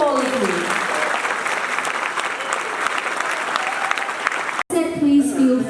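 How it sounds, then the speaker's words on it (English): Audience applauds steadily at the World Ranger Congress, a dense wash of clapping that runs for several seconds before cutting briefly and giving way to a voice over the fading claps. "A big round of applause for all of"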